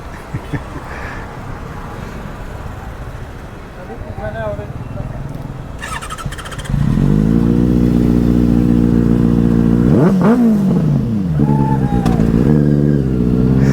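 A Benelli 600i superbike revs hard near a police station, its engine jumping from a low idle to a loud, sustained roar with a couple of sharp throttle blips, while people talk nearby.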